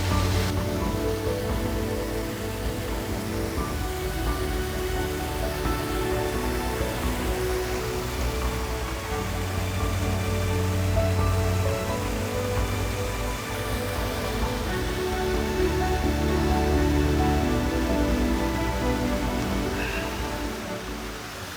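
Steady, dense rushing water roars without a break at Baş Daşağıl waterfall in Azerbaijan, a broad continuous wash of falling water heard fairly close, with no voices.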